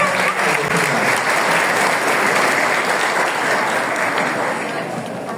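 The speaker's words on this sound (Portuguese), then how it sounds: "Vamos aplaudir Jesus" A church congregation claps together in one sustained, dense burst of applause, even and crowd-wide, fading slightly toward the close.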